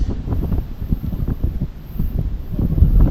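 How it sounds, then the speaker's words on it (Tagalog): Strong wind buffets the microphone in low, rumbling gusts at the shore during a fishing catch, rising and falling throughout and swelling near the end. "Lumakas ng hangin guys."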